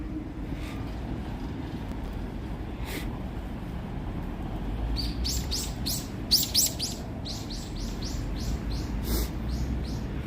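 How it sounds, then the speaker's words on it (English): Small birds chirp outdoors, first with a couple of faint single calls, then with a quick run of bright, repeated tweets over a steady low rumble of city and traffic noise. "That bird sounds like he snitches out the other birds"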